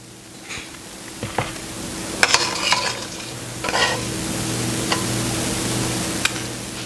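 Apples softening in syrup in a pan, cooked as fried apples for canning: a steady low bubbling sizzle broken by scattered clinks and scrapes of a spoon stirring against the pan, close and fairly clear.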